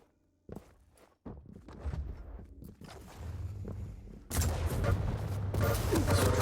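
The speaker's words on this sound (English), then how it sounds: "A little bit of machine gun, trying to finish off." Machine gun fire in the Quake video game comes as rapid bursts of dense, crackling shots that grow louder and fuller toward the end, with scattered sharp in-game impacts before them.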